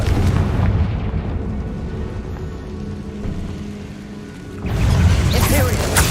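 A Confringo explosion spell cast in Hogwarts Legacy, a roaring burst near the end that swells out of a steady, rumbling game backdrop.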